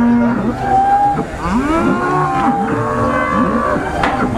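A giant sacrificial cow at a cattle contest in Boyolali moos several times in long, wavering calls while being weighed, loud and close against a busy background.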